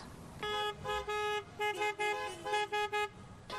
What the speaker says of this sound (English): If you heard honking in your neighborhood, it may mean you haven't filled out your census yet.